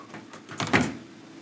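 The door of a Frigidaire microwave oven is pulled open, a short quiet click and thump of the latch and hinge, close and alone.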